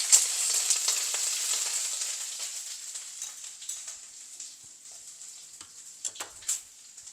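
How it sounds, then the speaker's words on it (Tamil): Ginger garlic paste sautés in hot oil for spicy cabbage curry, a soft continuous sizzle with scattered crackles and a few sharper pops toward the end. "இதுக்கு இஞ்சி பூண்டு பேஸ்ட்டு சேர்க்குறேன். கொஞ்சம் வதங்க விடுவோம்."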